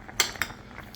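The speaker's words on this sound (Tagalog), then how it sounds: "mix this one thoroughly" Malunggay leaves are stirred in a cooking pot of dinengdeng with okra, giving two quick metallic utensil knocks against the pot, close and clear, without speech.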